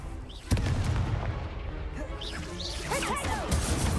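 A Confringo spell cast in Hogwarts Legacy during spell training: a sudden loud blast with whooshing, crackling bursts over a dense, continuous game soundscape of other spell effects.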